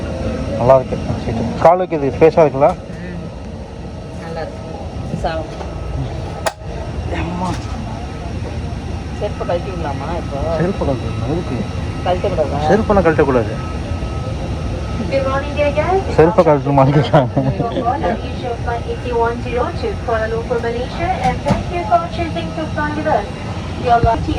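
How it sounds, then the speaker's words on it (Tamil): Inside an airplane cabin just after boarding a flight to Malaysia, a steady engine and air-conditioning hum runs throughout beneath people talking nearby. "ஃப்ளைட்டுக்குள்ளே வந்தாச்சு"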